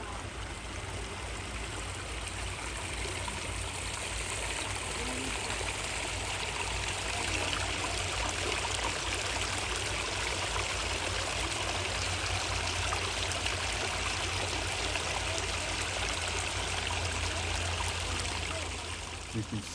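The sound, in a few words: small artificial garden stream of running water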